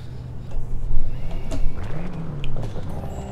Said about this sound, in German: Unser Wagen hört sich auf jeden Fall geil an.